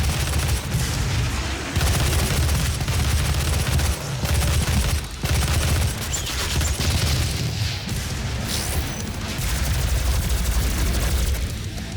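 Heavy weapon fire in classic Doom, a steady run of loud booming blasts close up, layered with explosions and chaotic game noise throughout.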